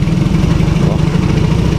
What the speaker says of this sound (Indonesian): jadi suara mesinnya saat kita naikkan RPM sedikit nih